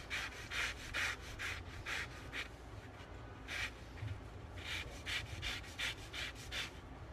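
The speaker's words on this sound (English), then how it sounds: "We're going to zest the lemon" Lemon being zested on a grater, a series of short bright scraping strokes in quick rhythmic bursts, pausing briefly midway before another run of close strokes.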